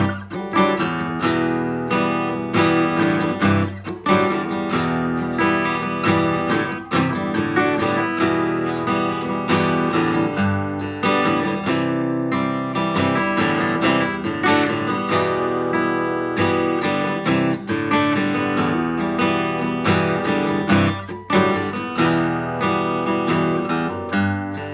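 Acoustic guitar plays an easy beginner arrangement of a song, steady strummed chords ringing continuously at an even, moderate loudness with no voice.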